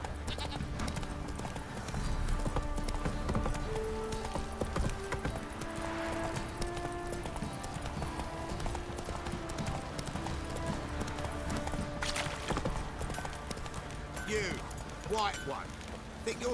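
Horse hooves clip-clop steadily through The Witcher 3 as Geralt rides Roach, a continuous rhythmic patter under game music and nearly constant talking voices.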